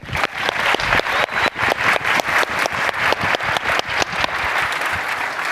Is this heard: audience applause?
yes